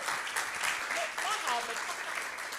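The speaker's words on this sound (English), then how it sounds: "Give her a warm round of applause again and again and again." Applause from the audience at a political party dialogue on implementing affirmative action, steady and moderately loud across the whole stretch, with some voices mixed in.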